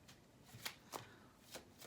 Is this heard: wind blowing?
no